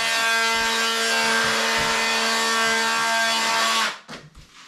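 A hallway wall panel of plasterboard is cut with a saw in a steady, rasping run of close strokes for several seconds, then the sawing stops and a few light knocks follow.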